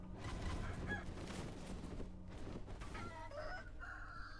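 Chickens clucking in the video game Sekiro, a dense layer of fowl calls and squawks over a steady game soundscape, with brighter bird cries rising near the end.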